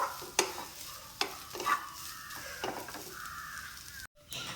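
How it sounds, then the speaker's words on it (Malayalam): Grated coconut dry-roasting in a pan over a medium flame for a breadfruit curry, with intermittent scraping stirs of a spatula and a soft, steady sizzle close by, no talking. "മീഡിയം ഫ്ലെയിമിലിട്ടിട്ട് തേങ്ങ കരിയൊന്നും ചെയ്യാതെ നന്നായിട്ടൊന്ന് വറുത്തെടുക്കുക കേട്ടോ."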